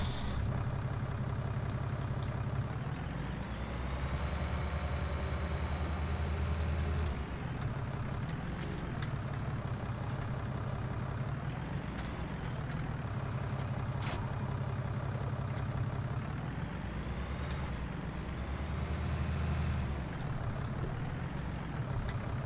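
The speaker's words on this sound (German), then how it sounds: "Motor starten." Farming Simulator 19 tractor engine in a French campaign map, a steady loud low diesel drone that rises and falls slightly in pitch as it revs, continuous with no talk.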